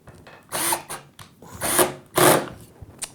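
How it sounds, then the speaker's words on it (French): Cordless drill-driver boring into a wooden batten, three loud bursts of whirring and grinding against wood, each lasting about half a second with short pauses between, close by and with no voices. "Au moins, on va pouvoir percer en toute tranquillité."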